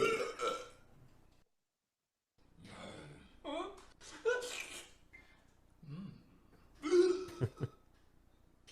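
A cartoon character lets out a series of burps that teleport him, several short guttural bursts separated by pauses, mixed with brief voiced sounds.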